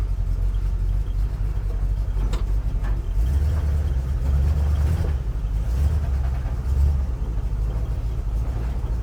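A car on a test drive climbs uphill, its engine a steady low rumble that swells and eases with throttle, heard close from inside, with no talk.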